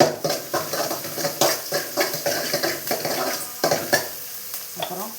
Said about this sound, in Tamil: அரை மிளகா போடுறேன் நம்மளுக்கு தாளிச்சிடுவோம்